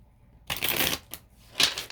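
A tarot card deck being shuffled in two bursts of riffling cards, a long rustling run followed by a brief flick and a second sharper shuffle, close and clear with no talking.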